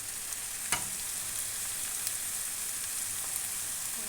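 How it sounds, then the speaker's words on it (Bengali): Ginger and garlic paste with spices fries in a pan, a constant close sizzle with a few small pops and a brief stirring knock. "লাল লাল করে ভালো করে মশলাটা ভেজে নেব"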